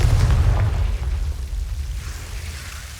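Confringo fire spell detonating in Hogwarts Legacy, a loud low booming blast with a rumbling tail that slowly fades over a few seconds, no voices.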